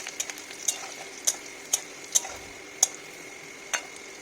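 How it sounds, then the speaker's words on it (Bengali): Chillies and ingredients fry in a pan for a bottle gourd and shrimp curry, with a soft sizzle under a series of sharp, irregular spatula taps against the pan, up close and without talk. "তো দেখো আমি ভাজা চলছে"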